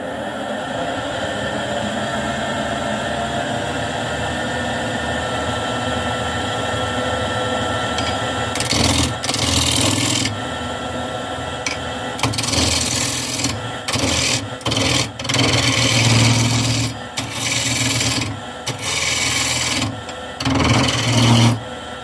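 A wood lathe turns a small bowl while a sharp 5/8 bowl gouge cuts it. A steady motor hum runs throughout, and rough, intermittent scraping and rasping cuts start partway through and come in repeated bursts.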